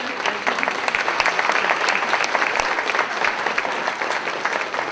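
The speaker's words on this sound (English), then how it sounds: "So please stand. We want to wave and clap for you" An audience at an awards dinner claps for the event's videographers, a sustained round of many hands with distinct individual claps close by, continuing for several seconds.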